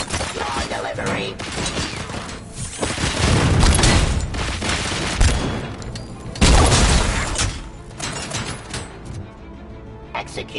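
Heavy gunfire in a Robocop: Rogue City shootout, loud bursts and booming shots with shattering impacts, rising and falling across the scene as voices talk underneath.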